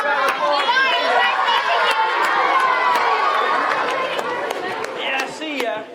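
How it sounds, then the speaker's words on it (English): A live children's book event audience claps and cheers together, a loud and dense mix of clapping, shouting and chatter that lasts the whole stretch. "Give yourselves a round of applause."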